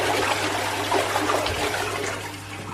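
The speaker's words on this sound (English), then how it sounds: "The flush works well." A repaired toilet flushes, steady rushing water pouring through the bowl and tank with trickling and gurgling throughout, close and loud, with a constant low hum beneath.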